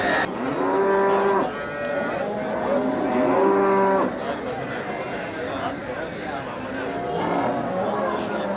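Cattle low repeatedly at a busy livestock market in Melapalayam, with long harmonic moos rising over crowd chatter and nearby talk.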